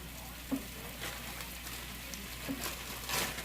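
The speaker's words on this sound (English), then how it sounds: "Listen for the sizzle." A soft, steady sizzle of bread frying in a hot pan, crackling gently with a few small pops and brief clatters from utensils.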